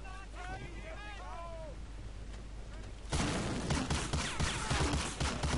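Gunfire in Medal of Honor Allied Assault, a World War II shooter, breaking out as a loud dense burst of shots in the second half after a quieter stretch with a voice.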